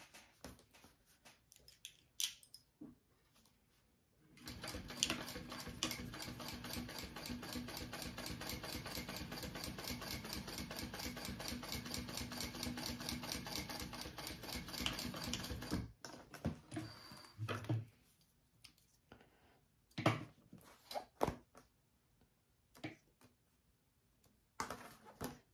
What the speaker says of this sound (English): Now I'm going to sew this trim on